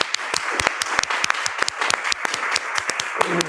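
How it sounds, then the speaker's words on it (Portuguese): A lecture audience applauds steadily, a dense patter of many hands clapping throughout. "eu gostaria de uma salva de palmas para ele"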